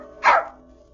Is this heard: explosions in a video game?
no